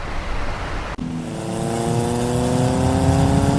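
A Vespa scooter out on a test ride, its engine droning steadily close by after a brief click, the pitch slowly rising as it pulls away and holds speed.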